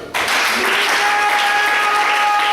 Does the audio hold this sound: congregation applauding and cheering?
yes